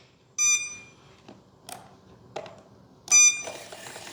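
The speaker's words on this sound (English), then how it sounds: "I don't understand why it's beeping at me." An electronic alarm on an RC helicopter remote control emits two short, shrill beep bursts a few seconds apart, with quiet clicks and thumps between them.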